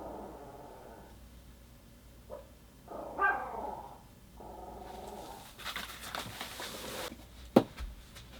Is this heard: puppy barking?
yes